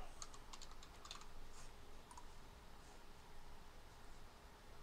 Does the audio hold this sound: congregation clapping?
no